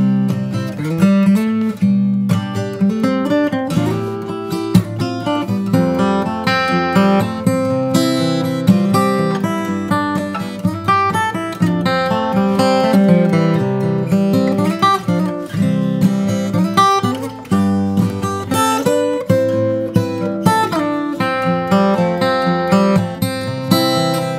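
A solo guitar plays an arrangement of a solo, a continuous melodic line over chords with steady, bright, close-up picking and no voices.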